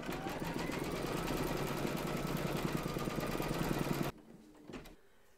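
An embroidery machine stitches the eyes of a reindeer towel topper with a dense, rapid, steady needle chatter that runs continuously for about four seconds and then stops abruptly, leaving a quiet room with a faint knock.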